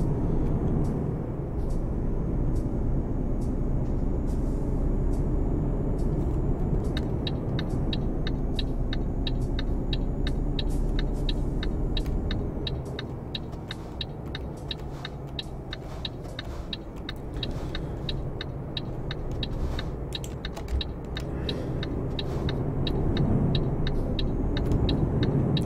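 Truck driving along a road toward Leipzig in Euro Truck Simulator 2, a steady low engine rumble and road noise running throughout, with faint rapid clicking like an indicator ticking through the middle and later stretch.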